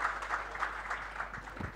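A short burst of audience applause at a Spanish-language agricultural census presentation, moderate hand clapping from a room of people lasting under two seconds.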